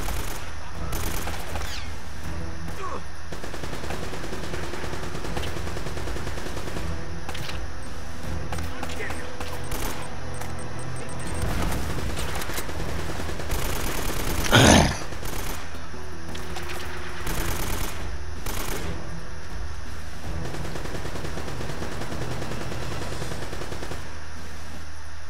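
Gunfire from the video game Uncharted: The Nathan Drake Collection, automatic bursts spread through a long stretch and peaking in one loud shot near the middle, mixed under steady game noise and talking voices.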